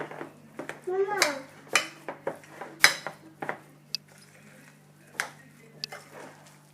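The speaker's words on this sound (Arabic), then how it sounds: "غادي نزيد التوابل، وغادي نخلط المكونات كاملين، يعني نخلطهم" Potato and tuna gratin ingredients with spices being mixed in a bowl, with irregular clinks and scrapes of utensil against the dish and soft squishy stirring, faint and close with a steady low hum beneath.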